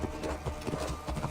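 Horse hooves clip-clop in the Assassin's Creed Origins video game, a quick, even rhythm of soft strikes at moderate distance over a low engine-like hum, lasting only a moment.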